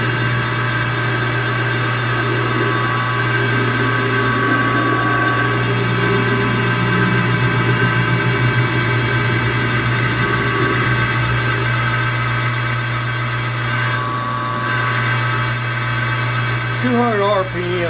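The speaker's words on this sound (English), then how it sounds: "Now we're just going to pop a big old hole in there now. And we're going to bore it out" Lathe spinning at about 200 RPM while drilling and boring a large hole in aluminum, a steady mid-pitched machine hum with a faint tonal squeal, continuous and close throughout.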